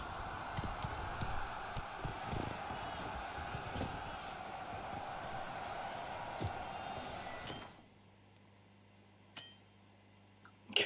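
Horse hooves clip-clop at a steady walking rhythm in The Witcher 3, a fairly quiet string of repeated thuds over a soft background that stops abruptly partway through, leaving a few isolated clicks.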